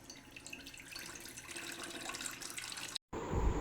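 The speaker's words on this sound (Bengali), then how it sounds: "সিদ্ধ হয়ে গেছে, আমরা তো পানি ফেলে দিব" Hot water being poured off boiled noodles, a faint continuous splashing flow that briefly cuts out, then resumes as a louder gush near the end, with no talking.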